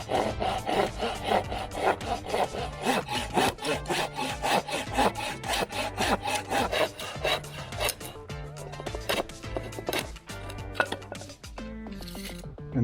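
Hand sawing of wood for DIY home-studio sound panel frames, worked without a sawhorse or clamp: a steady run of rapid, rhythmic rasping strokes, close and loud, carrying on throughout with no talk.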